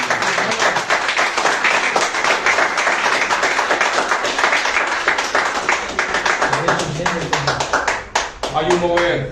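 A church congregation claps loudly and rhythmically, with voices talking and calling out over the clapping and a speaking voice near the end.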